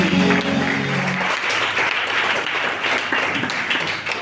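A church congregation applauds loudly and steadily, dense clapping filling the room throughout, with a faint sustained musical tone underneath at the start.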